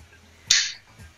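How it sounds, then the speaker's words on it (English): One sharp, crisp finger snap sounds close by, followed by a much fainter second snap. "Finger snaps."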